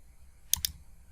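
Computer mouse button clicked on a download button, two quick crisp clicks close together in a quiet room.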